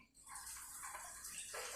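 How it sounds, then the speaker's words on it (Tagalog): Water from a tap pours steadily into a milk drink for about two seconds, a faint, close hiss with splashing that rises in pitch as the container fills. "Lagyan na natin ng tubig to."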